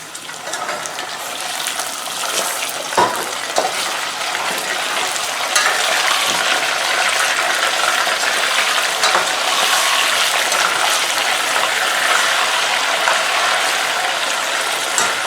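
Meat sizzles and fries with golden onions in a pot for haleem, a loud, steady crackling hiss close up, with occasional stirring scrapes and clinks.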